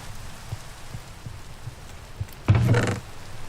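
Steady soft patter of Minecraft video game rain on a surface, with a few dull low thumps and a brief louder burst of rainfall near the end.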